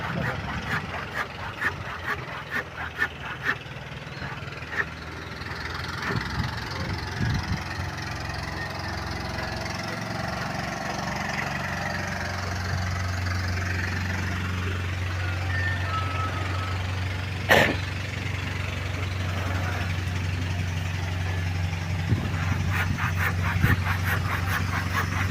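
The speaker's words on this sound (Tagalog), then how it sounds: "may motor sa pambot mga tol. Pambot sa ilog." A boat motor runs on a river, a low steady engine drone that sets in midway and holds, fairly faint among scattered clicks and short tones.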